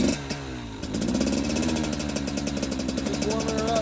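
A brand-new KTM 300 XC TPI two-stroke dirt bike engine catches after a cough and settles into warming up, a close, rapid buzzing idle with slight revving swells, heard alone without talk.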